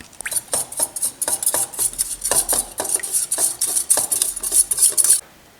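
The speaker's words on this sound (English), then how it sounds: "Then we're going to get our little mixer and whack it all together." Minced garlic and honey being whacked together with a small mixer, a busy run of rapid clattering, scraping strokes close by that stops abruptly near the end.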